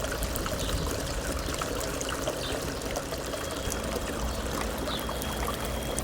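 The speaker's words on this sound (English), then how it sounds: "I'm gonna just run the water through here and concentrate my concentrates a little bit more" Water runs through a high banker sluice box on a Lake Superior beach while concentrating gold-bearing black sand, a constant close splashing and trickling flow with no talk.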